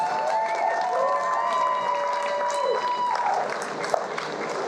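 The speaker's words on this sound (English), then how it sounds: "I just want to give a round of applause to them." Clapping and cheering from a crowd at a town hall event, moderate and continuous, with whistle-like tones over the applause and some voices mixed in.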